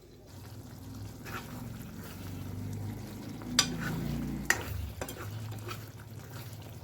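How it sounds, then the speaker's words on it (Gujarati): Whole onion curry cooking in a pan over a low gas flame, with a soft, low bubbling simmer and gentle stirring, plus a few sharp utensil clinks near the middle. "જો આપણું શાક આ ચડે છે ગેસે મેં ધીમો જ રાખ્યો છે"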